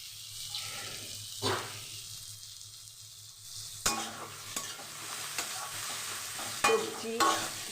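Vegetables with potato and shrimp fry in a pan with a steady sizzle, broken by a few louder stirring scrapes and clatters of the utensil against the pan.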